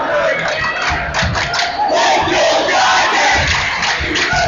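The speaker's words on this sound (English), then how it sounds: "the crowd is giving one last rallying cry for their Chargers" Basketball crowd roaring a loud, sustained rallying cry for the home Chargers late in a high school game, a dense wall of voices that swells and holds without a break.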